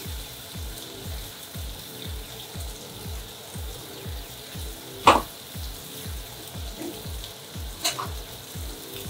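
Butter sizzling and frying in a hot pan with steak on a stovetop over low heat, a steady crackle with a faint repeating ticking underneath and two brief sharp knocks.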